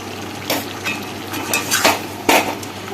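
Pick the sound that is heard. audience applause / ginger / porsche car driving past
ginger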